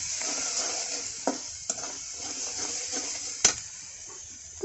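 Spices stirred into browned onions in a pan for a Malabar spinach dish give a continuous soft sizzle broken by several sharp scraping stirs of a spoon, no voices.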